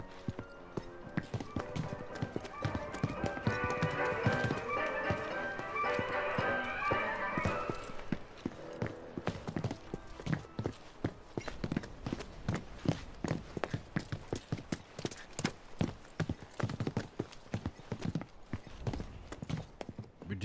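Horse hooves clip-clop steadily in the video game Final Fantasy VII Remake, a rhythmic run of close, crisp strikes continuing throughout alongside busy game sound and music, with a voice talking in parts.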